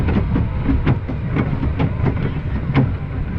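On board the Double Helix roller coaster at Skyline Park in Germany, the train rushes along the track with continuous loud rumbling and rattling and periodic clattering wheel beats, heard from the car itself.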